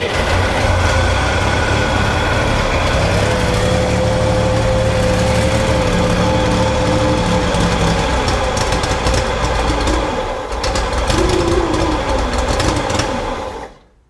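A flooded 1965 Corvair engine fires up and runs roughly on carburetors, a loud, steady mechanical clatter and drone that continues close by for about thirteen seconds before cutting off abruptly.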